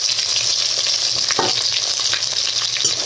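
A spice paste of ginger, chopped tomato and cumin paste fries in a pan with a loud, continuous hiss and sizzle, close up, with occasional stirring scrapes.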